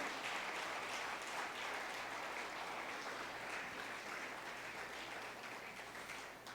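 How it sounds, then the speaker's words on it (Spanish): A church congregation claps together during a Spanish-language worship service, a steady, sustained wash of applause lasting several seconds, fairly faint and distant, slowly tapering near the end. "Vamos, dale un aplauso al Señor."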